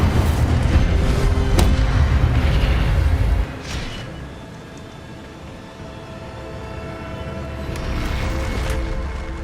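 Incendio fire spell in Hogwarts Legacy bursts with a heavy, rumbling boom that rolls for a few seconds, then drops away into a quieter crackling ambience that swells slightly toward the end.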